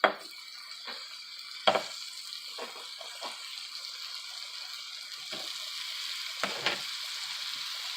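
Tilapia and shrimp sizzle steadily on a hot griddle, a constant bright frying hiss with a few sharp clinks and scrapes of a utensil, close and moderately loud, no voices.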